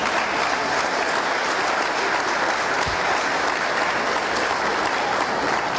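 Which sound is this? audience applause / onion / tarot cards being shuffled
audience applause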